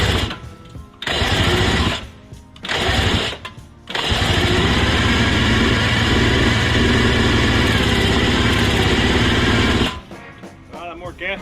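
A Greeves 360MX Challenger two-stroke motorcycle engine runs loud and close, sputtering and cutting out in short bursts before catching and revving steadily for several seconds, then dying away.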